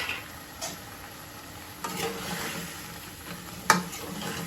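Potatoes and beans sautéing in a pan, a low steady sizzle with a few scattered spatula strokes and one sharp clack near the end, close and fairly quiet.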